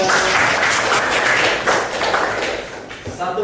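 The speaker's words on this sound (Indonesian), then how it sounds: "tepuk tangan." Classroom applause during a teaching practice lesson, a dense burst of clapping from students that stays steady for about three seconds before tapering off.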